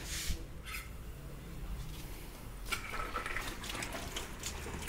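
An Arduino-controlled washing machine fills with water from a tap, a steady broadband rush and hiss running the whole time, with a couple of brief louder splashes near the start and a slightly brighter flow in the second half.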